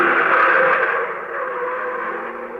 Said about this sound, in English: I heard a motor behind me, so I dove for the underbrush again just as the heavy car roared by